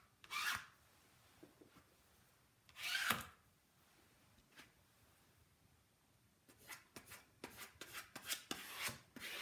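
Wet paint is wiped off a Maker's Studio mesh stencil laid on a t-shirt: a few faint, short scraping strokes, two spaced apart at first and then a quicker run of brief rubs near the end, with no talking.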